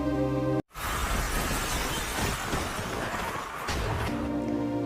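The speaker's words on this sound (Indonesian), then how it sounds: "pintu kacanya tiba-tiba pecah" A glass door shatters in a zombie film scene aboard a train: after a brief instant of silence comes a sudden loud burst of breaking glass, followed by several seconds of dense crashing and tinkling debris.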